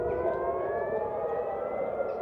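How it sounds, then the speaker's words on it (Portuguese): Air raid sirens wail over Jerusalem, a sustained civil defense tone holding steady and carrying loudly across the city with a low background rumble and no talking. "As sirenes que alertam para ataques aéreos voltaram a tocar hoje em Jerusalém."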